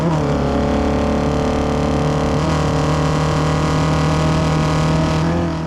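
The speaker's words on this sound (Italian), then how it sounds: "questo Lucini 3 punti con motore Alfa Romeo 2000 di cilindrata di derivazione Alfetta" A 2000 cc Alfa Romeo Alfetta-derived engine in a vintage three-point racing hydroplane drones loudly and steadily on the water, its deep harmonic roar holding a constant pitch with a slight shift midway, no voices.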